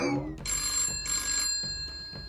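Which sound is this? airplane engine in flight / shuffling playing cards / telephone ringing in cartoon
telephone ringing in cartoon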